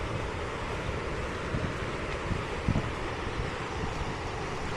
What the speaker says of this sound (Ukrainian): Дуже великі хвилі.